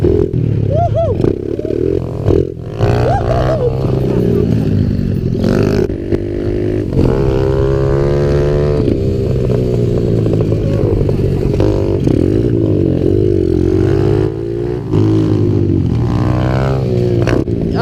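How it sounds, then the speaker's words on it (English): A loud small-displacement pit bike engine, a KLX 110 or Apollo X19, revs hard and holds a buzzing whine through a wheelie, its pitch rising and falling close by with rattly clatter and no clear talk. "That's just a little wheelie to warm up."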